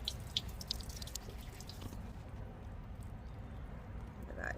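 Fresh mint sprigs rinsed under a running kitchen tap: a soft, quiet hiss of flowing water with light drips for about two seconds, then the flow stops and only faint room sound remains.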